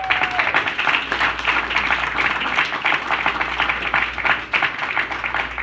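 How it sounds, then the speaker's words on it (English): An audience applauds at a 100th birthday celebration for Tony, steady dense clapping at moderate volume with a low hum underneath, continuing evenly without voices. "I want to applaud him right now for that."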